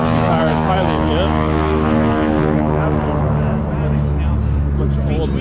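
Old propeller airplanes fly overhead at the Miramar air show in San Diego, a loud steady droning engine roar with shifting pitch that fills the scene throughout, with people talking underneath.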